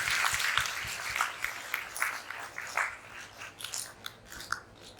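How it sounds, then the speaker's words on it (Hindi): An audience at a spiritual introductory camp gives a welcoming round of applause, a faint, scattered patter of claps heard from a distance that swells and thins in irregular bursts. "जोरदार तालियों से एक बार और स्वागत करेंगे"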